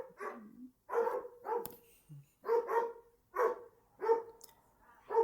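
Several dogs barking in a series of sharp, evenly spaced barks, fairly close and loud, about seven bursts in quick succession with short pauses between.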